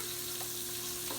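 Onions frying in a pan for Filipino adobo, a soft continuous sizzle with faint stirring, quiet and close, with no talking.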